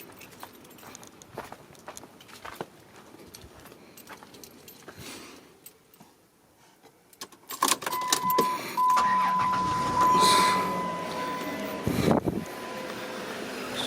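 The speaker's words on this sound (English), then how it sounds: "So let's start the car." A 2005 Dodge Caravan is started after keys jangle and a few clicks, the engine catching with a rush of sound and settling into a steady, close idle, no talking over it.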